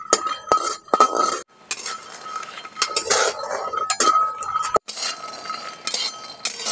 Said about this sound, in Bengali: বাদামগুলো একটু নাড়াচাড়া করে ভেজে নিয়েছি